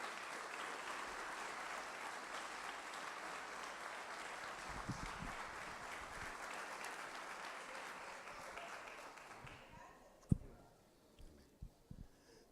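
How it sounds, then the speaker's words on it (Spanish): Church congregation applauding a visiting pastor, sustained dense clapping for about ten seconds that then fades out, leaving a few scattered claps and knocks near the end. "Ese aplauso, si es para mí, está lindo."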